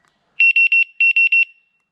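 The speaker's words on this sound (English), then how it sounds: "It's got a little alarm button." Alarm button under the seat of an Ancheer electric bicycle sounding, two loud bursts of three sharp high electronic beeps with a brief pause between them, no talk.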